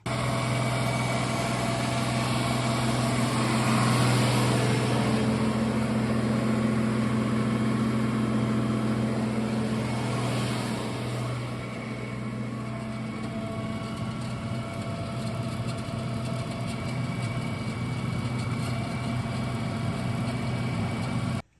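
An International Harvester 66, 86 or 88 series tractor engine running steadily on a dyno with a deep droning hum and whining tones, loud and close, easing slightly partway through.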